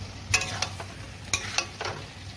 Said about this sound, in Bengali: বেগুনটা মশলার সাথে ভেজে নেব।